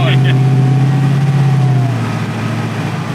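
A 1962 Chevrolet Impala with a 1,000+ horsepower engine, riding on air bags and 24-inch wheels, gives a loud, steady low engine drone that eases off slightly toward the end, with a brief tone near the start.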